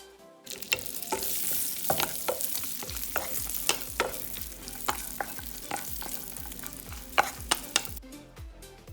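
Raisins fry in oil in a pan for vegetable pulav. A loud continuous sizzle runs throughout, broken by repeated scraping stirs of a spatula, with no talking.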